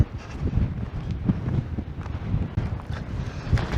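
Gusty mountain wind on Čvrsnica near the 2228 m Pločno summit rumbles continuously across the microphone, loud and uneven with rising and falling buffets.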